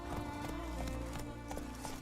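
Roach, the horse in The Witcher 3, gallops in a steady clip-clop of hooves beneath a sustained musical score, loud and continuous throughout.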